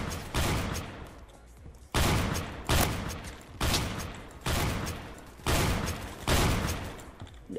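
Loud, widely spaced shotgun blasts in Roblox Phantom Forces, six or seven heavy booms roughly a second apart, each with a decaying tail, close and dominant.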